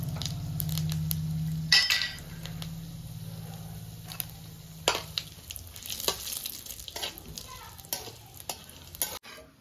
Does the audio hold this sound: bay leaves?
yes